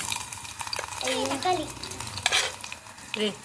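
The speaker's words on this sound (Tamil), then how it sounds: "ஐயோ கொதிக்குதுப்பா என்ன கரண்டி எடுத்து கிண்டிக்கலாம்" Close stirring and scraping with a ladle in a boiling pot of kootanchoru over a steady sizzle, with intermittent metallic clinks of the ladle against the pot.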